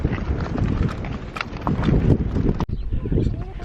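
Horses walk on a windy day in Spain, their hooves clip-clopping in a steady close rhythm while someone talks over them and wind rumbles throughout.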